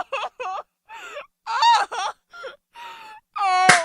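Someone crying and wailing at a door, a series of short, loud, close sobbing wails broken by pauses and gasps, ending in a sharp cry, with no other sound around it.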